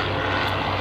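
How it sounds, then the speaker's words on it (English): Aerobatic propeller airplane performing at a World War II-themed airshow in 2003, its engine droning steadily and loudly throughout the short moment, with no talk over it. "How can the airplane fly? Well, folks, with enough horsepower and enough rudder, you can make it fly."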